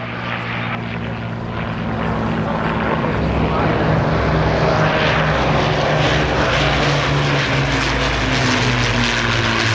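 An Avro Lancaster bomber drones loudly overhead at an air show, its deep propeller engine roar steady and sustained throughout.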